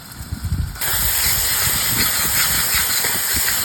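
Wind gusts across an outdoor clay stove, a steady close hiss and roar of moving air that swells after a brief rumbling start and holds on continuously.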